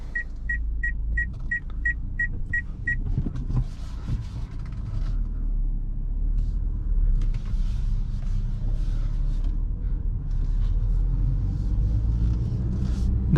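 Hyundai i10 2020 with a 1.2 MPI petrol engine driving on a road, a steady low engine and road rumble throughout from inside the cabin, preceded by a short series of chime beeps at the start.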